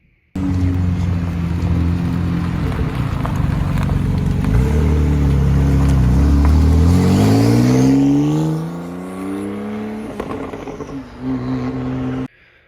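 Porsche 911 Carrera GTS Cabriolet, a 532-horsepower car, revs its engine hard and close, the pitch climbing steadily through a long pull before it settles back to a steadier idle, with no talk over it.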